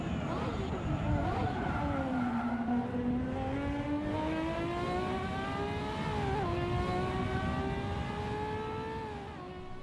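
A Ferrari F50 laps a test circuit in the video game Assetto Corsa, its engine note climbing steadily under acceleration, dropping briefly at a gear change, then rising again. The engine is loud and continuous, and the whine tapers slightly at the end.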